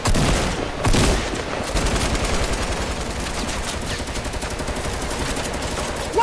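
Video game battle gunfire: a continuous loud stream of rapid automatic shots with a heavy thump near the start, sustained without pause and no voices over it.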